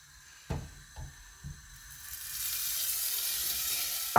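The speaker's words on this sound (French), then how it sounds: "Maintenant que le beurre il est bien fondu et ça s'est mélangé avec la farine" Butter and flour cooking in a pan as the base of a béchamel: a few soft knocks of a utensil at first, then a growing steady sizzle that fills the rest, close by.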